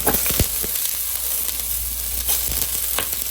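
Chopped onion hits a hot oiled pan while cooking sinigang na tambakol fish soup, giving a steady, close sizzling hiss with small crackles throughout.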